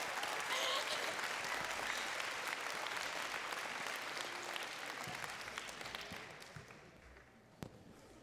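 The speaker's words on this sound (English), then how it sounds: "let's give a round of applause for the many students who have practiced for hours after" A crowd at a high school multicultural assembly claps steadily for several seconds, then the applause thins and fades out near the end, with a sharp knock just before it stops.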